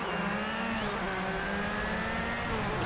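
Peugeot rally cars race in Colin McRae Dirt, their engines holding a steady, close droning whine with a slowly rising pitch.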